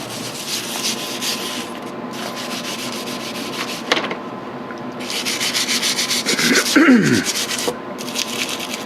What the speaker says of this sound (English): These little tiny brushes, they really get into all the cracks.